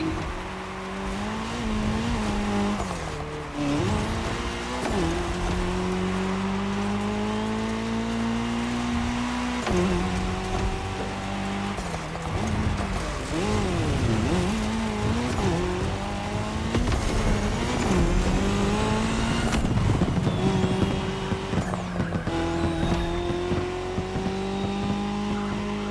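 Race cars in The Crew Motorfest roar continuously on a tarmac section of a cross-terrain race. The engines rise and fall in pitch as they rev and shift, close and loud, with occasional tire squeal.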